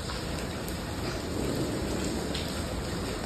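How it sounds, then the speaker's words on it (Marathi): Steady rain falling in the late afternoon, a dense continuous hiss of drops on surfaces, even and unbroken throughout, with no voices. "मस्त पाऊस पडतोय, वातावरण एकदम मस्त झालंय"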